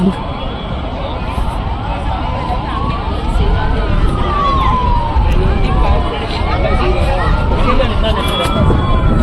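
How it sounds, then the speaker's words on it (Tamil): Several ambulance sirens wail at once, overlapping pitches sweeping up and down over loud traffic and crowd noise, with people talking nearby, amid crowds gathering in Madurai the day before a Vijay political rally. "இங்கே பாருங்கள் எத்தனை ஆம்புலன்ஸ் பாருங்கள்"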